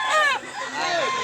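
A rooster crows once, loud and close, a short strained call that rises and then falls away, with people talking nearby.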